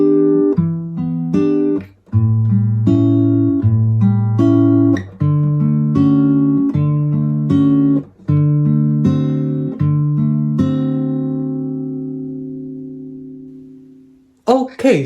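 A guitar plucks the intro chords of a song in short repeated phrases with brief gaps, the last chord left ringing out before a faint noise at the end.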